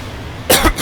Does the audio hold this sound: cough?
yes